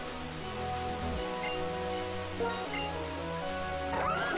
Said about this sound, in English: And look, it's storming now.